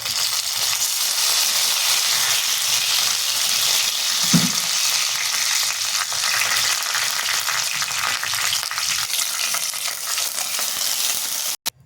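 Whole cumin seeds, dried red chillies and two bay leaves fry in hot oil with a steady, loud, broadband sizzle for about twelve seconds. A soft knock sounds near the middle, and the sizzle cuts off abruptly at the end.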